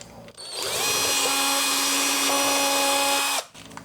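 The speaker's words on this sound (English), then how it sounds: "we're going to have to drill out that hole a tiny bit" A power drill with a 6mm bit whines steadily at high speed for about three seconds, pitch shifting slightly midway as it bores out a hole, then spins down.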